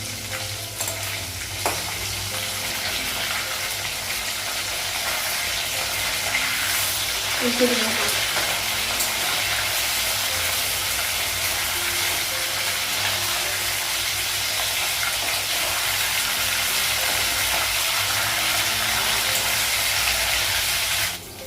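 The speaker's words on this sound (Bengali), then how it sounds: "আরও মাছ লাগিয়ে এই মাছগুলো ভাজা হয়ে গেছে" Fish frying in oil in a pan on a home stove, a loud, steady crackling sizzle that runs unbroken throughout, with occasional stirring clinks and faint movement in the background.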